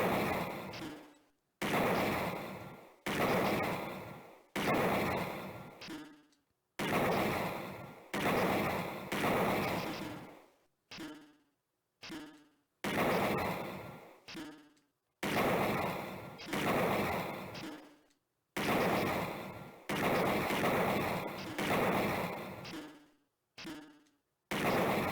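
Repeated gunfire bursts at targets in the retro cyberpunk adventure game Snatcher, arriving as a steady run of about a dozen loud, buzzy volleys, each roughly a second long and split by short gaps of silence.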